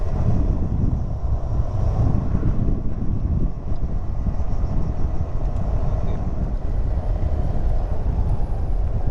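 Strong tidal seawater rushes into a culvert beside mangroves near a ferry harbour in Natuna, a steady loud roar of flowing water mixed with wind buffeting the microphone throughout.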